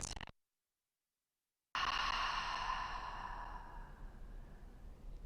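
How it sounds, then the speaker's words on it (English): A strong breath pushed out through the mouth during a gentle meditation session, a soft airy rush that fades slowly after a short gap of silence. "And then we'll breathe out strongly through the mouth."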